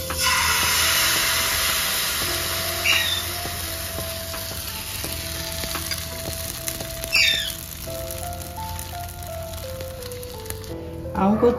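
Fritter batter fries in ghee in a hot pan with a loud, close, continuous sizzling hiss and scattered spitting pops, while background music plays.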